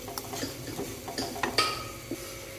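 A spoon scrapes and clinks around a pan while melted jaggery with cardamom is stirred, a run of irregular close taps and scrapes with one brighter clink midway and no talking.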